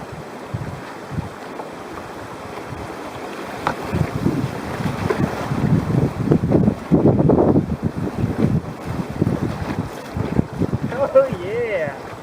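A solo canoe running river rapids on the Steel River, rushing water and wind buffeting growing louder through the middle, with splashes and paddle knocks and brief talk near the end.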